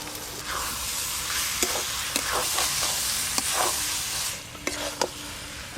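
Ghee hits a hot prawn curry in the pan, giving a continuous loud sizzle punctuated by sharp clicks of a spoon stirring against the vessel.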